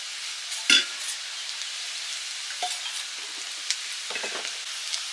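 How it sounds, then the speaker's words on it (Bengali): Bengali fish curry simmers in a pan as fried boal fish pieces go into the boiling broth, giving a soft, steady sizzle broken by a few sharper splashes and clinks; no one speaks. "ঝোল ফুটে গেছে, ভেজে রাখা বোয়াল মাছগুলো দিয়ে দিলাম।"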